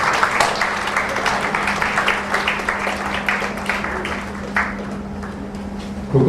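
Audience applause at a farewell function, a dense wash of many hands clapping steadily for several seconds, with a low steady hum running underneath.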